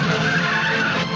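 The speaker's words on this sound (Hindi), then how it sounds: "वो गाड़ी को तेज भगाओ" A car skids while driven fast, a loud, continuous tire squeal that holds steady for just over a second with no talk.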